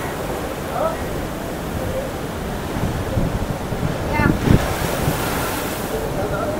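Sea waves surging near houses right beside the shore in a coastal village where waves have reached homes, a broad continuous roar mixed with wind buffeting the microphone, with brief speech partway through.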